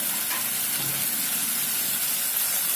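Vinegar hits a hot pan of soya Manchurian and sets off a loud, steady, close-up sizzle of frying, with bright hissing that runs unbroken for the whole moment.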